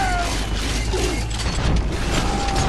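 Rivet gun firing in the video game Bioshock 2, a dense clattering mechanical ratchet of shots and metallic impacts mixed with game noise, steady and loud throughout without speech.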